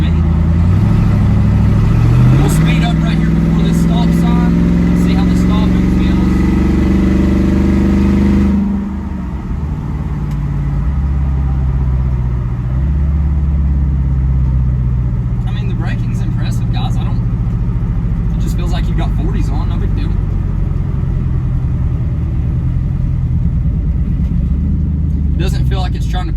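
A Jeep Rubicon 392 with a 6.4-liter engine towing a load revs up hard, its engine note climbing steadily for several seconds before easing off into a lower cruising drone, with someone talking over it throughout.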